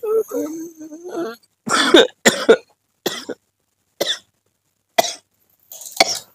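Several sharp coughs in a row, a couple close together then single bursts spaced about a second apart, loud and near, after a brief murmuring voice.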